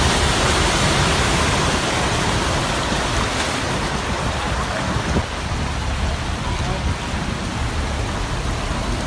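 Heavy rain pours steadily on a flooded street in Üsküdar, Istanbul, a loud, dense, continuous hiss close by with faint voices buried underneath.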